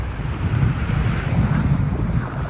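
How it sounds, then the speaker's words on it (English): High ocean waves break on a beach in Japan with a continuous, rumbling wash of surf, heavily mixed with gusty wind buffeting the microphone. "The waves are high though."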